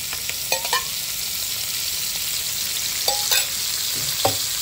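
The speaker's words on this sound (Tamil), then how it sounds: "மீன் வந்து பொரிச்சாச்சு பொரிச்சாச்சு எடுத்து வச்சிருவோம்." Fish frying in oil in a clay pot sizzles steadily and loudly, with a dense constant hiss broken by a few small pops and scraping stirs.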